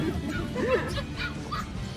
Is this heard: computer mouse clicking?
no